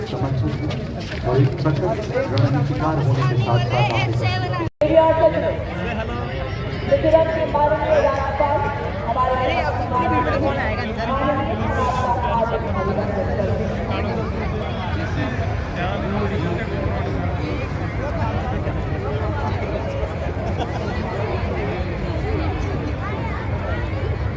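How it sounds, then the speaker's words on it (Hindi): Large crowd at an Indian Army Day parade in Jaipur, a dense continuous babble of many voices and movement, with a commentator speaking over the noise. "बहुत भीड़ है, ज़्यादा लोगों में उमंग है, उल्लास है।"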